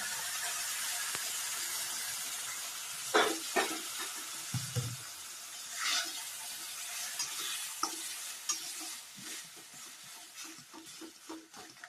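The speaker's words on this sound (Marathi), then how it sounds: "यामध्ये जेवढं पाणी बसेल ना तेवढंच गरम पाणी टाकायचं।" Hot water hits roasted semolina in a pan for upma, setting off a steady sizzling hiss with a few louder bursts and stirring scrapes, close and clear with no talking.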